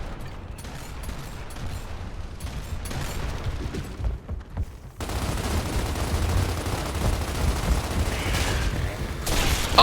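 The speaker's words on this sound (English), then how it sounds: "Shotgun to the face." Shotgun blasts in a multiplayer shooter video game, sharp gunfire bursts over dense, loud in-game noise that jumps louder halfway through, with a final burst at the very end.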